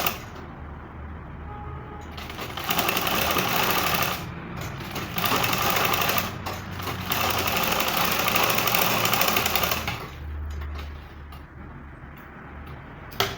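A sewing machine stitches an Ankara fabric bustier gown in several bursts of rapid mechanical ticking, each lasting a few seconds, separated by short pauses of quieter room noise.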